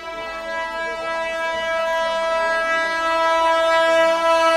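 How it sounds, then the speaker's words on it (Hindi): A Mahananda Express passenger train sounds its horn in a long, steady, loud blare that holds through the whole stretch over the rumble of the moving train near Pasraha station. "अभी हमारी ट्रेन पसराहा रेलवे स्टेशन भी पहुंच चुकी है।"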